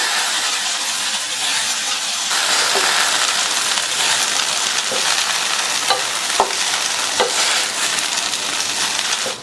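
Okra coated in ground spice powder stir-fries in a pan, a steady broadband sizzle with scattered clicks of a spatula scraping and tossing, loud and close, growing fuller after the first couple of seconds.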